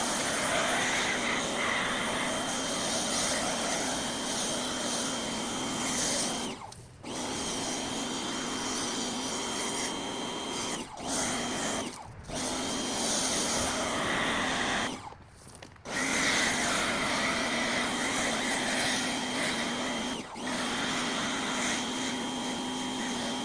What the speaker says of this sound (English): So then we just lightly foam the whole vehicle.